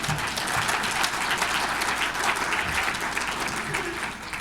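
Broad audience applause at a Rotary club presentation, a dense steady clatter of many hands clapping throughout, fairly loud and continuous with a faint voice or two underneath.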